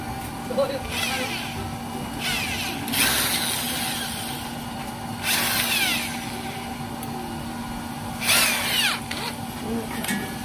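A drill press bores into a nozzle burner in short, loud, harsh bursts of a few seconds each, separated by a steady low motor hum.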